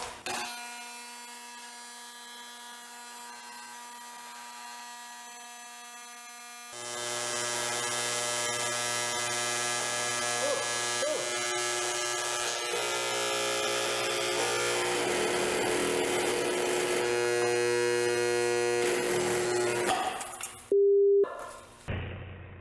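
A $10 Harbor Freight Drill Master angle grinder whines loudly in a steady, harmonic-rich drone that builds and roughens as it is loaded toward a stall, then cuts out abruptly before a brief sharp burst at the end; no one speaks.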